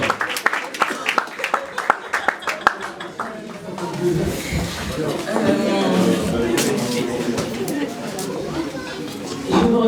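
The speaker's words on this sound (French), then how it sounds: "On encourage, on applaudit," Guests at a wedding reception in a hall break into sustained applause that swells into a broad wash of clapping, with a few sharp claps and talk beforehand and chatter mixed in underneath.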